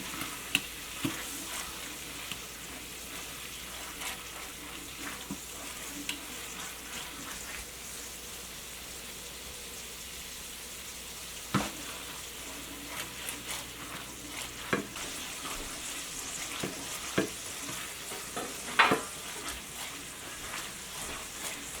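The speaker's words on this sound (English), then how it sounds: "we're going to cook this until the wine is almost totally reduced" Wine sauce reduces in a steak pan with a steady, soft sizzle throughout, broken by occasional scrapes and clinks of a utensil stirring the bottom.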